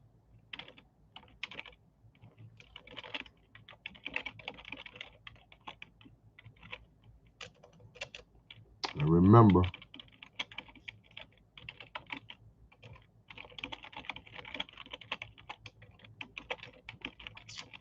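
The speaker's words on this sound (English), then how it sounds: "y'all drop y'all location while I'm typing this in" Keys clatter on a computer keyboard in light, uneven bursts through most of the stretch, with a brief louder thump in the middle; no one talks over it.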